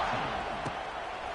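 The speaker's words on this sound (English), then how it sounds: "this crowd is buzzing after that last score" Football stadium crowd buzzing steadily after a score, a dense far-off roar of many voices holding at an even level across the moment with a brief louder swell midway.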